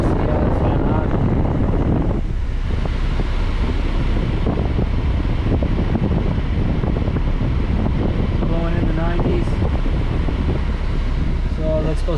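Air conditioning fan blowing steadily in a K-swapped EM2 Honda Civic, a loud broadband rush of air close to the mic with faint clicks and rattles underneath.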